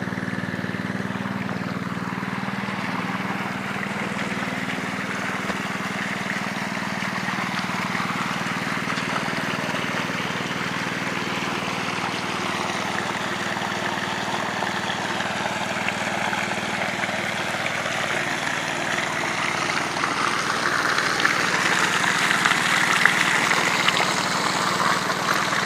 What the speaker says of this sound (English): pump a little bit more, have a little bit more water going through that